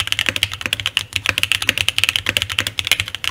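Rapid, steady typing on a custom mechanical keyboard fitted with GMK ABS double-shot keycaps, dense crisp clacks in a continuous close-up rhythm with no voices.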